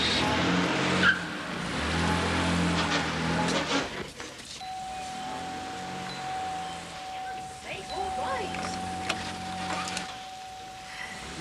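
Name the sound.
car starting and driving off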